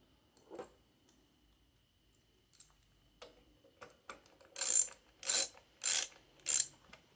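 A ratchet tightens 10mm nuts on a wrecked John Deere LT155 lawn mower. It gives four quick, crisp clicking bursts in a steady rhythm after a few faint taps. The sound is close and quiet, with no talking.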